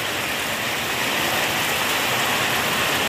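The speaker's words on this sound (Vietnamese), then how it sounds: "bên kia mưa lớn rồi rồi lát nữa thí dụ hết mưa thì anh em mình à" Heavy rain pours steadily outdoors in Vietnam, a dense, even hiss of water that stays constant and loud from start to finish with no voices.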